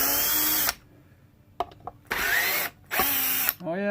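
Power tool buzzing in loud bursts as it cuts off the headstock of a Memphis bass guitar needing repairs, several separate passes with short pauses between them.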